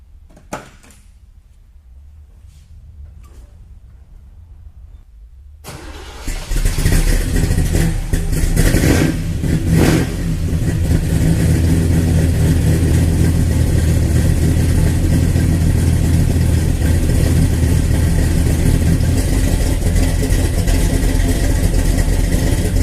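A 1967 Chevelle Super Sport V8 fires on a cold start after a few quiet seconds, then settles into a loud, rumbling fast idle that holds steady close by with no talk.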